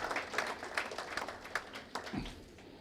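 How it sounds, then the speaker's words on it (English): Applause from an event audience at a health campaign launch, a fairly faint, steady patter of clapping lasting a few seconds before fading out. "A big round of applause for Mr. Ashish Shelar for all his support to making this event very, very successful."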